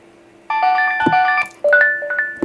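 An Android 12 Pixel ringtone melody in the minimal style: two short phrases of clear, bell-like synthesized notes, each starting abruptly, with brief plucked accents between them, heard alone and close.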